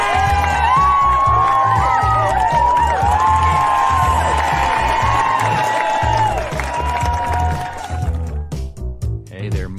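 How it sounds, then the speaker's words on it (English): An audience at a comedy roast cheers, whoops and claps as comedians come up to the stage, a loud sustained crowd roar with shouted voices over it that thins out toward the end. "so let's all cheer for them"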